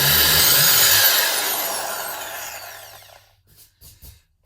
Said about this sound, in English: We're going to start off by drilling a hole